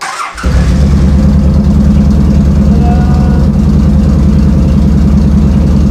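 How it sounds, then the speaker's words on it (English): A motorcycle fitted with heated grips starts after a brief crank, then settles into a loud, steady, close idle that runs without change to the end. "Start the bike."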